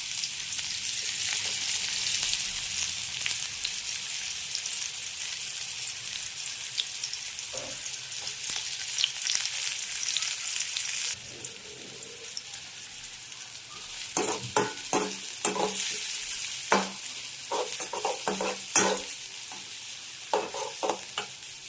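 Chopped onion frying with cumin in a pan, a continuous close sizzle that thins partway through, then sharper clinks and scrapes of stirring near the end, with no talk.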